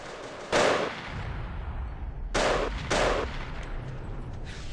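Single-fire gunshots in a shooter video game match, three loud sharp reports spaced apart, one near the start and two close together later, with a steady background hum between them.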